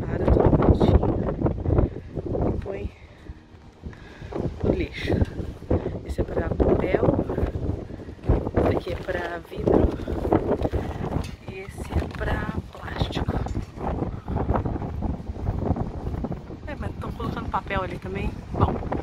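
Gusty wind buffets the microphone in low, rough bursts while a person keeps talking over it.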